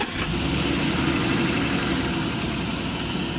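A BMW E39 engine idles with ticking valves, a steady close rumble holding an even tone throughout with a faint rapid ticking texture, no voices.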